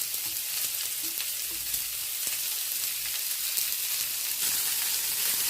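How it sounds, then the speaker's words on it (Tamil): Chopped onions sauté in hot oil, a steady close sizzle with scattered sharp crackles and pops that runs throughout, with no voice present. "நறுக்கி வச்ச வெங்காயம்,"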